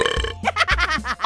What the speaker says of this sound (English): I like making loud noises and burping!